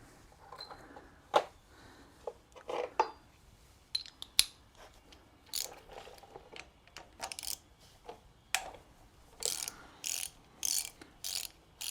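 A ratchet fitted with a T40 Torx bit loosens valve cover bolts on a BMW R1150GS Adventure motorcycle, producing bursts of rapid clicking ratchet pawl sounds, close and crisp, growing denser and more regular toward the end.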